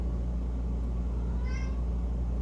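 A single short cat meow rises briefly over a steady low rumble of background noise.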